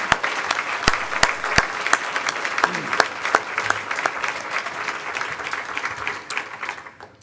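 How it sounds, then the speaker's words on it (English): Audience applauds sponsors at a breakfast gathering with the governor, with a few sharp, distinct claps up front swelling into sustained clapping that thins out toward the end. "Now let's have a round of applause for all of our generous sponsors."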